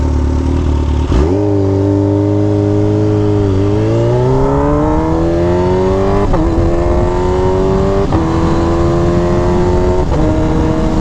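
A Kawasaki Ninja H2 motorcycle accelerates hard nearby, its engine note climbing through several gears with sharp shift breaks, loud and continuous from a low burble into a high, rising whine.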